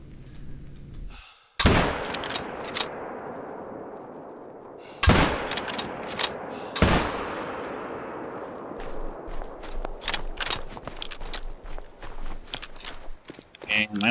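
Rifle shots ring out while hunting reindeer in the video game theHunter: Call of the Wild, three sharp reports with echoing tails across a taiga reserve, followed by quieter footstep-like rustling.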